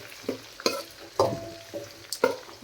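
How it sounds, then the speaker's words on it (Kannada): Onions and vegetables frying on medium flame as a spoon stirs them in the pan, several sharp scraping strokes over a soft, close sizzle. "ಮೀಡಿಯಮ್ ಫ್ಲೇಮ್ನಲ್ಲಿ ಇಟ್ಟು ಇದನ್ನು ಕೈ ಆಡಿಸ್ಕೋತಿರ್ಬೇಕು."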